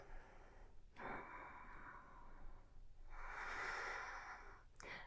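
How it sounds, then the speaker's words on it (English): Two slow, deep breaths during a yoga session, each a long airy inhale or exhale close to the mic, separated by brief pauses, with no talking. "and take one more breath"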